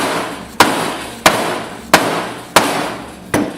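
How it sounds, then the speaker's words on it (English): A rubber mallet strikes the end of a crankshaft to seat a bearing on a Hobbit engine bottom end, five loud, evenly spaced blows that each ring out briefly. "if you're going to hit the end of a crankshaft, do it with a rubber mallet"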